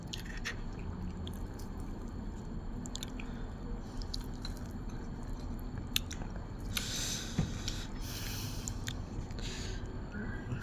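Close, wet chewing and soft biting of grilled rat eaten with spicy cucumber salad, a steady faint mouth noise with a few louder squishy bursts and no talking.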